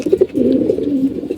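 Pigeons kept at a house loft coo in a run of low throaty, rolling calls, loud and close, with no talk.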